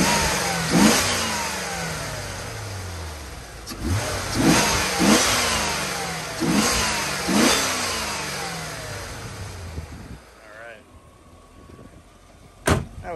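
A 1995 Chevrolet Corvette engine is revved from the gas pedal in a series of sharp, short blips over a steady idle, close and loud, with the revving fading out near the end before one final brief burst.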